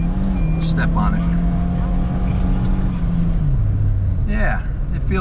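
Turbocharged 1998 Opti Aerodown Beex, right-hand drive, pulling hard from inside the cabin: a loud, droning engine note that holds steady, then drops in pitch as it shifts, with a voice speaking over it.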